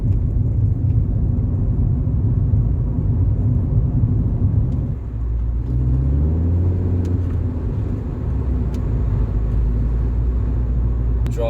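A Rover 45 Impression S3 with a CVT gearbox driving, heard as a steady low engine and road rumble from inside the car, with a smooth rising engine note after a brief dip midway.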